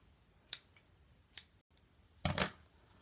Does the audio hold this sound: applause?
no